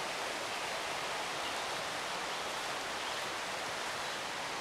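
The Polletts River on Cape Breton Island rushes steadily beside a base camp, a close, even, hissing roar of flowing water with no other sounds and no voices.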